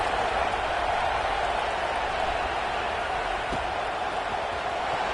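Steady stadium crowd roar in an NCAA college football video game, a continuous broad wash of cheering and murmur throughout with no distinct voices standing out.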